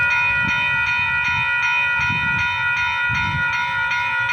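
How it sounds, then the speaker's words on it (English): A train sits with a steady high tonal hiss of air brakes releasing, loud and close, over a low rumbling pulse from the engine. "I think I hear the brakes releasing on this thing."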